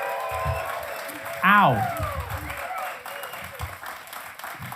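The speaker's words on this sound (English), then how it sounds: "keep that applause going real hard for all the poets that you've seen tonight" Audience applause for poets at the San José Poetry Slam, a steady bed of clapping and crowd noise under a host's loud voice and a shouted exclamation.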